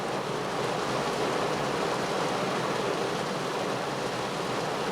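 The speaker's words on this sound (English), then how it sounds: "But it's raining now" Steady rain falls on a parked 2007 Honda Civic LX, a dense, even hiss of drops on the body and glass that holds constant throughout, with no voices.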